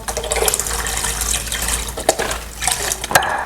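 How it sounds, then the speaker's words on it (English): Chicken stock and water pour into a soup pot for homemade chicken noodle soup, a steady close splashing flow with a couple of brief glugs and no talk. "we'll add 1 box of chicken stock, and then you can always add some water too"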